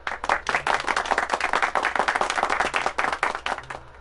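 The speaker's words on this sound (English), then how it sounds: "Clap, clap, clap, clap, clap." Rapid, steady clapping by a single pair of hands, loud and close, continuing for several seconds without pause.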